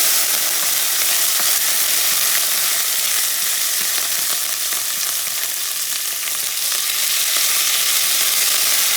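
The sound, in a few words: stirring sizzling rice with Vienna sausages in a pan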